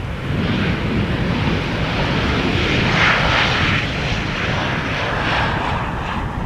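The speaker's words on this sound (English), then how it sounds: "This is Transavia arriving from Crevetza, now landing flight 5792." A Transavia passenger jet landing at Amsterdam Schiphol Airport, a loud continuous engine roar and rumble that swells slightly midway as the aircraft passes, with no talking.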